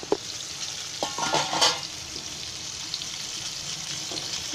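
Tuna (kupa) fish steaks frying in a pan, a soft continuous sizzle broken by a few clinks and scrapes of a utensil against the pan, close by and without talk.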